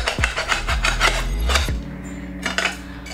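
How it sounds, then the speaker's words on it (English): A knife cuts through a bunch of grape tomatoes on a board, a few quick close scraping strokes followed by a rougher rasping cut, short and crisp with no voices. "if you want to slice a whole bunch of grape tomatoes, you just have to do that and do that. And then run your knife through."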